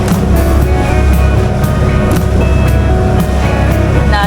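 Small boat crossing rough, choppy sea off Bantayan Island, Cebu, a loud constant engine drone mixed with wind and water rushing, with rhythmic thumps from hull slaps against the waves throughout.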